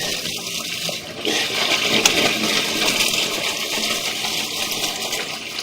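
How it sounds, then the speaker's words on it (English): A toilet flushes upstairs in a house, with water rushing and gushing steadily for several seconds, muffled through the ceiling and fairly loud. "They're running some water upstairs."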